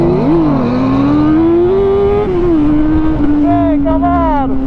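A Camaro and a Hornet motorcycle race side by side, with a loud, close engine drone that holds a steady pitch and then rises as one revs higher toward the end, with shouting voices over it.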